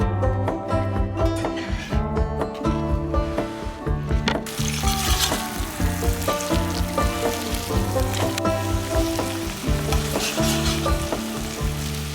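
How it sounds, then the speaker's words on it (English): Sausage fries in a pan at a campsite, giving a continuous close sizzle broken by repeated stirring and scraping sounds, with a tonal musical backing underneath and no speech. "So I'm gonna grill that up or put that in the pan as well."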